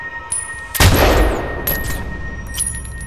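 A single loud gunshot in Medal of Honor Warfighter, a sharp near blast followed by a long rolling echo, with faint softer reports trailing after it and no talk.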